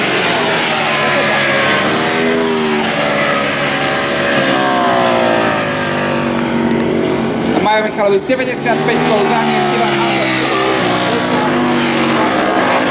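Ducati racing motorcycles of the Ducati Slovakia Cup scream past on the Trenčín race track, engines rising and falling as bikes pass, with one loud close pass midway, all under steady commentary.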